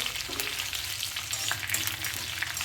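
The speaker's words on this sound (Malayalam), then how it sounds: "നല്ലോണം ഇങ്ങനെ ഇടയ്ക്ക് നല്ലോണം ഫ്രൈ ആക്കണം." Food fries in a pan with a steady, crackling sizzle and occasional scraping stirs, close and continuous with no talking.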